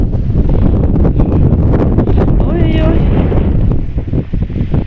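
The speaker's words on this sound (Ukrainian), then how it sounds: "На вітер страшний піднявся." Strong wind roars and buffets the microphone continuously, with a person exclaiming briefly over the gusts.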